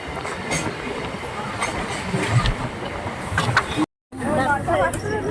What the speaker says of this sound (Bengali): local train journey